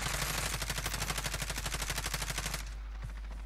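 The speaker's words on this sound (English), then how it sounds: "They're shooting at me." Rapid automatic gunfire in a video game, about a dozen evenly spaced shots in a steady burst that then stops abruptly, leaving quiet background.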